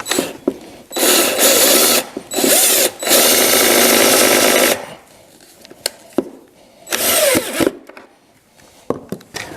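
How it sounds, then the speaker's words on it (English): Power drill driving pocket screws into wood, loud bursts of high whirring broken by short pauses, a few longer runs and a final burst, close by with no talk. "my theory is I'm going to attach this thing with pocket screws"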